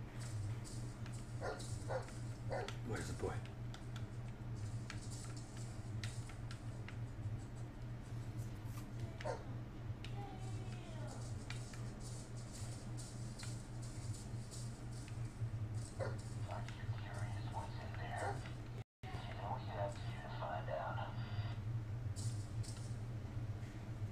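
In the horror video game Blair Witch, a dog yips, whimpers and gives small barks over a steady low hum of game ambience, with the sounds scattered and fairly quiet across the stretch and a brief dropout near the end.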